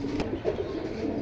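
Pigeons of the khoragola and sapchila lines coo softly nearby in a low, murmuring stream, with a short sharp click near the start and no talking.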